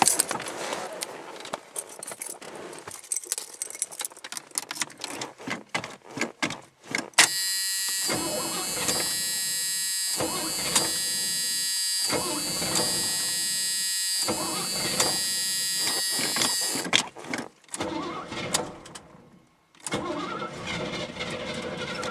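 An old car engine is cranked by the starter in quick, uneven bursts. It catches and runs loud and steady for about ten seconds, cuts out, then is cranked again with a few more short attempts.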